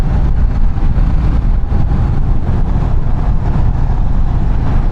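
A KTM 790 Duke motorcycle in sport riding mode, with a steady low engine drone mixed with heavy wind rush, continuous and loud with no pauses.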